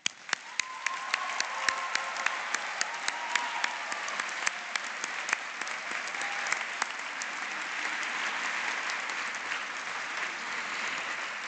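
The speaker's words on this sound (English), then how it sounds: "So I want to get one more round of applause" A large audience at a pharmacy white coat ceremony keeps up a sustained round of applause, a dense, even wash of clapping with a few sharper individual claps standing out throughout.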